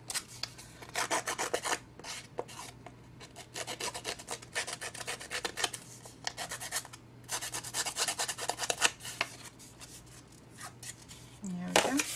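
Paper card edges being distressed with a hand tool give repeated dry rasping scrapes in quick bursts, close and fairly soft, with brief pauses between strokes.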